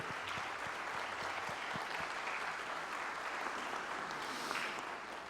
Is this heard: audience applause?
yes